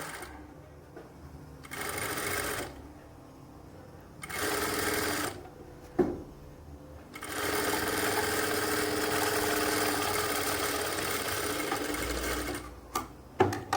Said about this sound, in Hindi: इस तरीके से इस सिलाई को राउंड में घुमाते हुए लगाना है